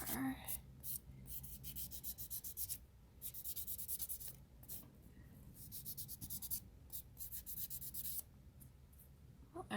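A nail buffer rubs back and forth over Polygel nails in steady, soft scratchy strokes broken by short pauses, close and quiet.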